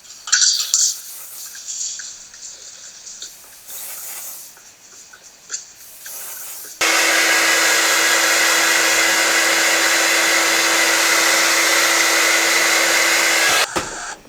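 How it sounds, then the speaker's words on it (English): A blow dryer dries hair treated with glue and freeze spray, roaring in a loud, steady, close whoosh for about seven seconds after quieter spraying and handling noises, then cutting off abruptly. "The blow dryer definitely does wonder."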